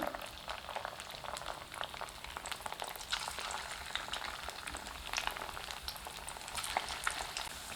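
Small pinched pieces of flattened rice pakoda batter frying in hot oil, giving a soft continuous bubbling sizzle with scattered fine crackles, quiet and steady with no voices.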